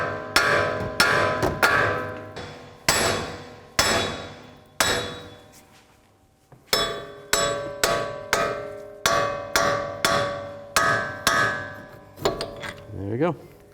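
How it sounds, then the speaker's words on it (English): A hammer knocks a Chrysler 200 front wheel hub from the back side to free it from the steering knuckle, sounding as a string of sharp, ringing metallic strikes in irregular bursts with short pauses. "I'm going to take a hammer and tap the hub from the back side to separate it from the knuckle"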